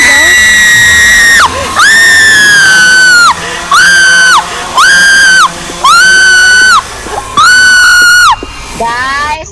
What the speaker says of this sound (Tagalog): may naririnig akong sigaw